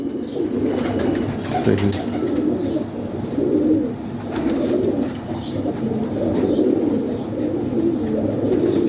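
Pigeons of a prized bloodline coo steadily in a loft, low throaty burbling calls overlapping throughout, with faint chirps and a brief spoken word.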